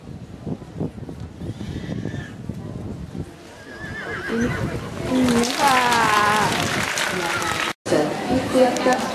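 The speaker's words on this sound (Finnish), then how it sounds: "Se on Ori, jonka isä on Ruuminoope, emä Leimuljelska ja emän isä Aatamo." Finnhorses at a Finnish breeders' competition on a show-jumping course give loud, shaky whinnies while hooves clip-clop on the ground, and someone speaks over the arena sounds.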